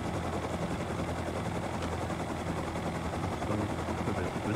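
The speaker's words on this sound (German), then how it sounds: "Willst du den Hubschrauber da nicht reinstellen?" Helicopter in the video game Rust, a steady droning rotor and engine roar that fills the whole clip at an even, moderately loud level with no talk over it.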